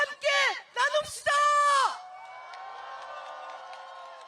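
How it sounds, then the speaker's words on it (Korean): A crowd at a Gwanghwamun rally shouts and whoops loudly in short bursts, then settles into a fainter spread of scattered clapping and murmur. "연대와 격려의 박수 함께 나눕시다"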